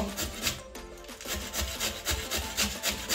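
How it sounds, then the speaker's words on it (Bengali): A carrot rubbed over a hand grater, with a cucumber to follow, made while preparing vegetable paratha. The scraping comes in quick, steady strokes, close and fairly loud, with no talking. "এভাবে গাজরটা ঘষে নেব, শসাটা এর সঙ্গেই ঘষে নেব।"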